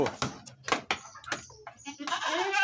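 Goat with badly overgrown, crooked hooves bleating in a short burst at the end, close and clear, after several seconds of people speaking nearby.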